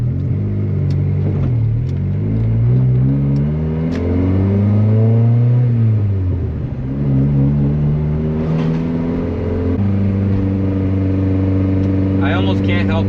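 A $500 turbocharged Honda Civic with anti-lag engine revs up and down, its loud droning tone climbing and falling in pitch across several pulls, with talking over it throughout.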